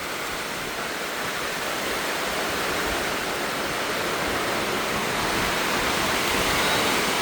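Heavy rain pours down hard while water leaks and drips indoors, a dense, steady rushing roar that fills the space and grows slightly louder toward the end, with no voices.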